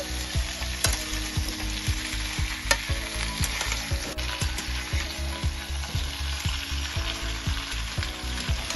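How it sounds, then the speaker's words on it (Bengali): Eggplant and beans fry and get stirred for Bengali sukto, a steady close sizzle broken by repeated scraping strokes of a spatula against the pan, with no voices. "এবারে এর মধ্যে দিয়ে দেবো বিন এবার আবার একটু ভালো করে আমি এটাকে একটু ভেজে নেবো"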